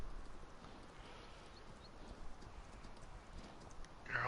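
Horse hooves in the video game Farming Simulator 19, a quiet steady clip-clop of hooves over a rough noisy bed, with a brief louder burst at the end.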